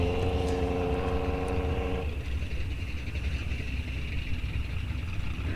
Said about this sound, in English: we are sending cars down the track